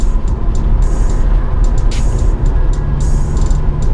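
A car runs a lap of Laguna Seca Raceway, with a loud, close engine drone and road rumble inside the cabin, plus intermittent high squeaks and clicks over the steady noise.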